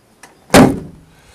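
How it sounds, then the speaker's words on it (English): Close and loud, the door of a Land Rover Series III 88-inch diesel hardtop is shut in a single sharp slam, a faint click leading in and a brief rattle fading after. "that door just needs a little bit of adjustment to make it shut properly"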